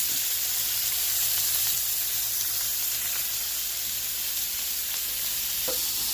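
Steak sizzles steadily in a hot pan, a continuous bright frying hiss with faint crackles throughout.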